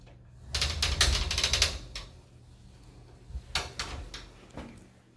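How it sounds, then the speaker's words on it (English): Double sliding mirrored closet doors in a two-bedroom home roll and thump along their track in several bursts of rattling, clattering movement, close by with a pause between strokes. "These are sliding mirror doors."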